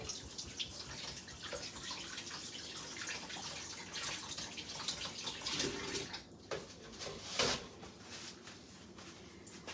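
Water runs steadily from a kitchen tap while hands are washed during enchilada preparation, a continuous splashing hiss with a few brief drips and knocks near the end, with no talking.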